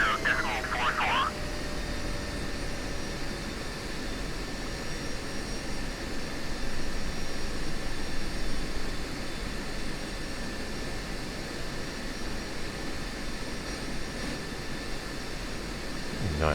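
Steady broadband roar of an F-16 jet engine spooling for takeoff in the DCS flight simulator, continuous and loud throughout with a faint high whine, plus brief clicks near the start.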